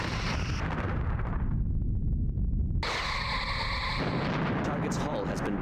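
Starship weapons fire and explosions from the space combat game Star Trek Bridge Commander, loud and continuous, with a dense roar of blasts and a bright, sweeping energy burst partway through.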